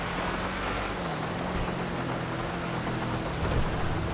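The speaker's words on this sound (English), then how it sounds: "And it's really raining." Heavy in-game rain in GTA Online hisses in a dense, steady roar, loud and unbroken, with a faint low drone beneath.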